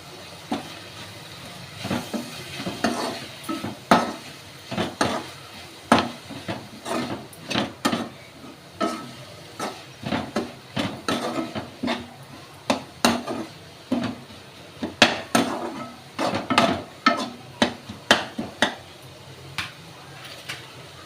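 A spoon stirs okra masala curry with turmeric in a pan, giving irregular close scrapes and knocks against the metal over a faint hiss of cooking.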